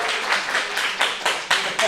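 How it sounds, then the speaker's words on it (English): Audience at an NES ROM hacking workshop clapping in applause, a brief patter of hand claps with rhythmic bursts, fairly close and moderately loud. "Let's give Michael a round of applause"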